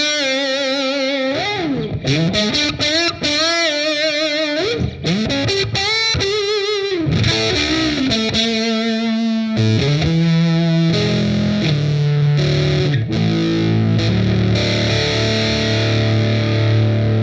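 Electric guitar through a Colorsound Re:Wired Overdriver pedal, loud and heavily driven, with bending lead lines giving way to sustained chords and low notes, played alone and close.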